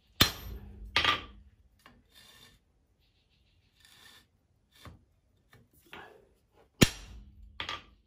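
Forging hammer with a flat die swaging hot steel near a transition: a few sharp heavy blows with ringing tails, spaced irregularly between quiet gaps and faint workshop rubbing, close and without talk.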